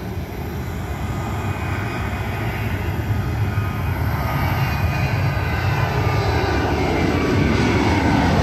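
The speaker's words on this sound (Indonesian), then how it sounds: "Batik Air take off dari ujung runway 18, ujung runway utara menuju ke arah selatan." A Batik Air airliner takes off from runway 18, its jet engines giving a loud, steady broadband roar that grows slightly toward the end, heard from nearby without talk.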